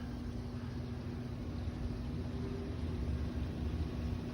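A Maxxair 6200K roof fan running inside an Oru Bruin camper gives a steady, loud whooshing drone with a constant low hum throughout, and no voices are heard.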